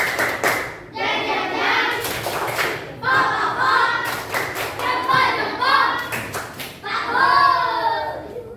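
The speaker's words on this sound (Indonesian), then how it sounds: "tepuk tangan buat kelompok 5. Tepuk jempol." Schoolchildren clap their hands for a group in a primary school class, with bursts of sharp claps among loud, close children's voices chanting and talking throughout.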